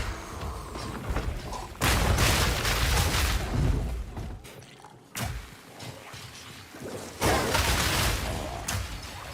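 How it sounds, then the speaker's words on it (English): Cluster grenade explosions in a video game, a series of heavy booms and rumbling bursts in separate waves, with quieter gaps between them. "Cluster grenade."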